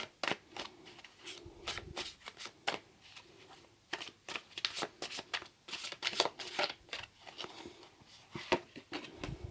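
Tarot cards being shuffled by hand, a quiet close series of crisp riffling bursts and soft slaps in an irregular rhythm, with no talking.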